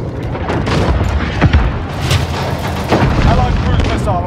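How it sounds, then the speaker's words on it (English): A cruise missile strike in Call of Duty Modern Warfare multiplayer brings a loud rumbling barrage of booms and explosive blasts that roll on continuously, with game voice chatter mixed underneath. "Allied cruise missile away"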